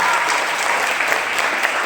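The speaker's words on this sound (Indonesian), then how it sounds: "tepuk tangan dulu dong" Short burst of steady crowd applause at a church revival gathering, dense and continuous throughout.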